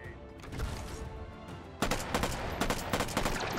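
Gunshots in the VR game Hot Dogs, Horseshoes & Hand Grenades: an initial bang and rumble, then a rapid run of loud sharp shots at close range.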